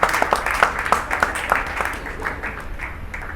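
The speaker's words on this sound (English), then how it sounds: "Give a round of applause for all the staff members, the owners of the place, yourself for coming in." Audience at a stand-up comedy show in a Muscat food court applauding, a thin scattered patter of claps that starts with a few sharp hits and fades to a light sparse ripple.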